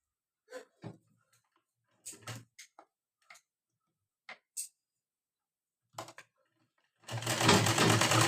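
A sewing machine stitching a blouse: scattered sharp ticks and clicks of the mechanism with near silence between them, then a dense, loud mechanical whir starts and runs steadily to the end, with no talk.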